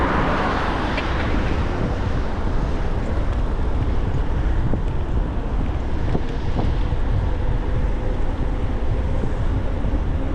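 Steady, loud wind buffets the microphone during an e-bike ride on pedal assist, a continuous roaring rush that fills the whole stretch with no talk over it.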